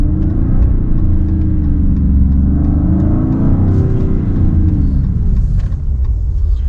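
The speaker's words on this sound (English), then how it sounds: "And the Hurricane, very responsive engine." A 2026 Dodge Charger R/T sedan's Hurricane engine revs loudly and steadily up close, a deep continuous rumble that swells and holds with no talking.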